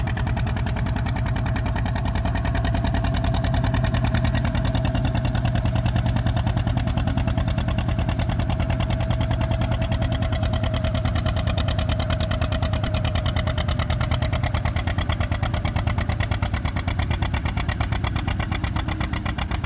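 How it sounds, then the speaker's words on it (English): A John Deere 630 tractor engine runs steadily at a steady idle-like pace, loud and close with a continuous even rhythm, heard alone at an outdoor show. "Real pretty John Deere 630."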